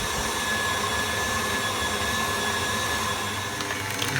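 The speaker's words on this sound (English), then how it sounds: "You're going to attach your whisk attachment. You're just going to start off slow, and you're going to whisk this for 3 to 4 minutes" Stand mixer running its whisk attachment at slow speed through softened cream cheese, a steady motor whir with a faint whisking hum, continuous and fairly close, no talking.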